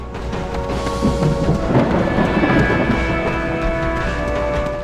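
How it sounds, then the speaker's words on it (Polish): Deep thunder rolls through the Torchlight 2 game world, a broad sustained rumble that swells around the middle and stays loud for about five seconds, with no talking over it. "ale grzmotnęło zdrowo"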